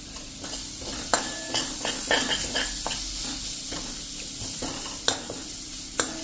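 Onions and capsicum cooking in a pan over a low gas flame, a soft steady sizzle broken by occasional sharp clicks and stirring scrapes, close and without speech.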